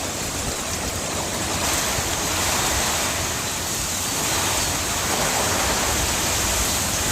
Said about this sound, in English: The wind is starting to get pretty rough out here